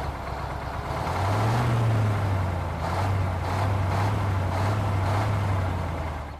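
A Caterpillar CAT 725 tipper truck in Farming Simulator 17, its diesel engine droning and revving up, with the pitch rising and holding steady for several seconds, close and moderately loud.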